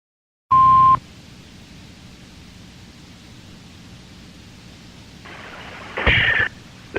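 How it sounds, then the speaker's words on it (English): NOAA Weather Radio weekly alarm test tone: a loud, steady tone burst opens, followed by low hiss and a brief harsher burst near the end, with no voices. "The signal you just heard was our weekly test of the NOAA Weather Radio."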